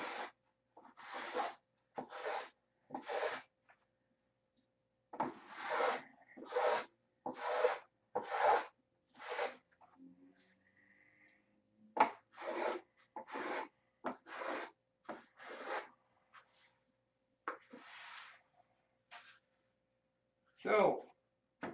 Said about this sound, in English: Every day I sand on it a little bit.